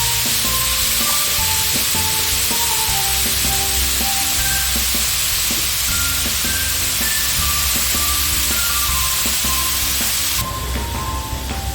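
Onions sauté in ghee in a pan with a loud, constant sizzle and hiss, under steady background music and without any pause.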